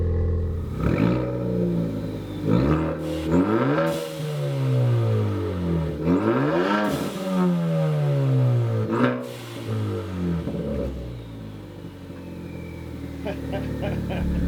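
A Ford Focus ST with an upgraded exhaust rumbles close by, settling into a low idle between several rising and falling throttle blips.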